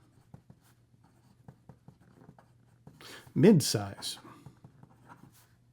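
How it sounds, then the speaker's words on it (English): A Delta DV Original fountain pen with a medium stainless steel nib writing on paper, making soft, quiet scratching strokes in short bursts, with a voice briefly speaking partway through. "Okay, here we go with the writing sample for the Delta. This is going to be the DV Original"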